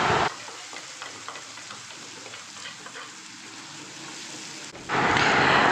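Ground spice paste for bhetki fish frying in a hot pan, giving a steady close sizzle that swells into a louder, brighter hiss near the end.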